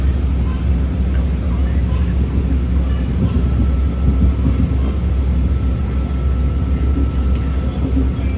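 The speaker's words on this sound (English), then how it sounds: "Berryessa bound BART train passing us." A Berryessa-bound BART subway train rumbles past loudly and continuously, a deep steady roar with faint metallic squeals over it, no voices.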